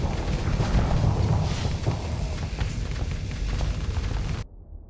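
Missile explosions in the Starsector space game roar as a continuous, heavy rumbling barrage of booms, loud and sustained for several seconds before cutting off abruptly to near silence.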